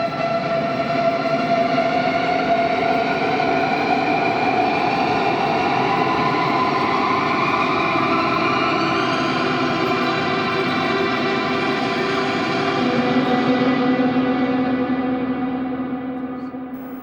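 Guitar string risers played with a Coke bottle used as a slide, dense sustained tones gliding slowly upward together into an eerie rising drone that fades near the end, no voices.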